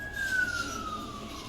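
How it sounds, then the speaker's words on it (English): A vehicle siren wails faintly in the distance, its single tone gliding slowly downward over a low background rumble. "every time I hear a siren, I always think police when I really should think ambulance."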